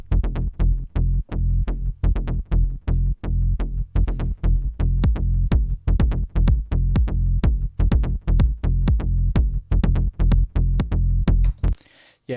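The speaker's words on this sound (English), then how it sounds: "it's to basically duck out the bass sound when the kick is kicking" Electronic bass line pumping in a steady rhythm, its low end dipping sharply each time the punchy kick drum hits, giving a repeated ducking throb that runs loud and continuous before cutting off at the end.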